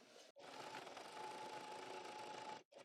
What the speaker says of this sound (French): on se met à coudre exactement de la même façon